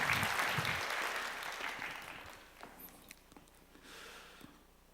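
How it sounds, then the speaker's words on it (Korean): A church youth service congregation applauding, a dense burst of clapping that fades and thins into scattered claps and shuffling over a few seconds. "하나님께 영광의 박수 올려드리겠습니다"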